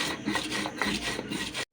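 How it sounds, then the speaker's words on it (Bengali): Chilies are ground by hand on a grinding stone for chili bharta, a brief run of close, rhythmic rasping strokes that stops abruptly. "মরিচ বেটে নিচ্ছি।"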